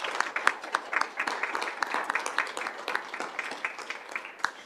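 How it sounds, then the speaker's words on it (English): Round of applause from attendees at a Peoria Unified school board meeting, a steady patter of many hands clapping at moderate distance throughout. "we could give you a quick round of applause to thank you for the work you do with our students"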